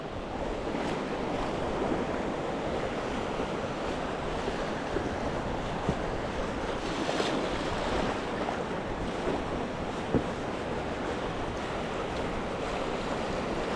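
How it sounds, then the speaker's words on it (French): Steady wind rushing across open Camargue coastline during fly fishing for sea bass, a continuous broadband roar with faint surf-like swells and no voices. "Là on a un petit vent dans le dos."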